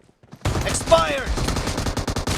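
Mini shotgun firing in a video game, a rapid string of sharp, punchy shots starting after a brief quiet lead-in and continuing steadily to the end, with a short game voice cue briefly over the blasts.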